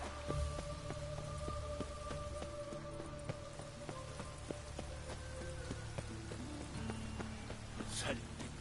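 Steady rain falling in The Witcher III, a dense hiss of drops on surfaces with scattered ticks and clicks, a constant wash under faint game sounds.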